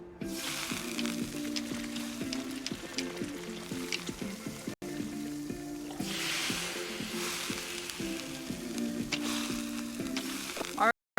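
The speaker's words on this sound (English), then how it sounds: "we put a lot of noodles and delicious sauce on it and cooking on a big, flat, round grill" Noodles, meat and sauce sizzle loudly on a big, flat, round grill, a dense, steady frying hiss that runs without a break, with rhythmic tonal sounds pulsing underneath.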